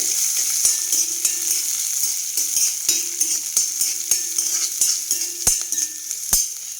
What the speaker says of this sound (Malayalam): ചുവന്നുള്ളി കൂടെ ചേർത്തു നന്നായിട്ട് വഴറ്റിയെടുക്കാം